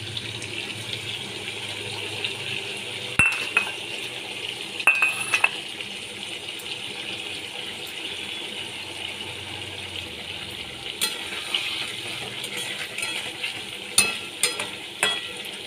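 Black mustard paste goes into a pan of frying hilsa fish and taro, giving a steady, even sizzle broken by occasional sharp clanks of stirring, with no voices.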